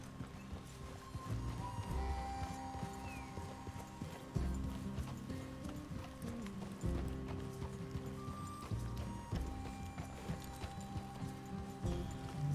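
Horses clop along at a trot in the Western video game Red Dead Redemption 2, their hooves making a quiet, steady rhythm with an occasional soft snort and faint tack creaks.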